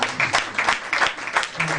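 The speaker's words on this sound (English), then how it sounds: "I think we should clap for the organization." Audience at a scholar summit claps for the organizing foundation, a short burst of rhythmic, fairly loud clapping with a voice speaking over it.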